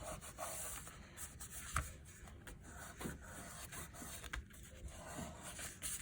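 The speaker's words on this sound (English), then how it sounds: "just keep pushing down on it and rubbing it, putting some pressure on it" Fingers rubbing and pressing down on a page of a handmade woodland journal, working along the edges; a soft, continuous papery rubbing with faint scrapes and a few light taps, close and quiet, with no talking.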